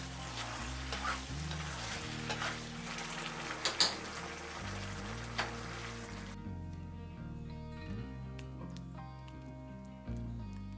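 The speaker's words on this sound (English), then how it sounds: "Put in the last third and stir for 20 seconds." Mapo tofu with beef being stirred in a frying pan, a soft steady sizzle with scraping spatula strokes and a few sharper clicks, the frying hiss dropping away partway through while low stirring continues.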